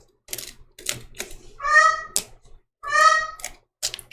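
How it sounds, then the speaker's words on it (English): A pet bird calls from inside a home sewing room, giving two separate bursts of bright, harmonic chirping whistles set among soft tapping and clicking noises, with no talking. "Can y'all hear my bird?"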